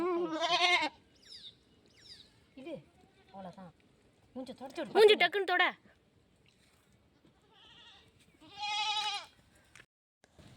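A goat kid bleating during a difficult birth, several short loud bleats separated by pauses, with people talking in between.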